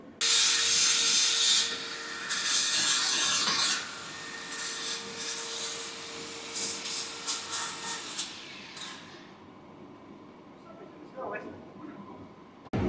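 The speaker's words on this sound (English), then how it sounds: "going to flap disc the life out of them here, get them sort of softened down a bit" Bursts of abrasive grinding from a flap disc deburring sharp edges on metal spacer blocks, during work on a Ford Capri. Loud rasping passes start and stop repeatedly, then drop to quieter handling noises.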